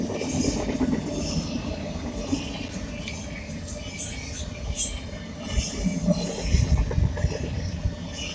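Freight train led by an SD60 locomotive rolling past nearby, continuous rumble of rail cars with wheel squeal and clacking, fluctuating loudness over several seconds.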